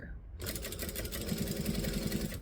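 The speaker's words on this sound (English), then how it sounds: "then we should be right to just sew" A sewing machine stitching a fabric bag starts up after a short quiet moment and runs in a fast, steady mechanical chatter, close and fairly soft, with a rhythmic stitching pulse.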